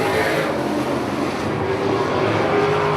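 Sprint race cars run together on the Dixieland Speedway dirt track in a Virginia Sprint Series heat race, a loud, continuous engine roar from the pack with steady droning tones and no clear pass-by peaks.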